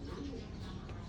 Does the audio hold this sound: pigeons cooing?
yes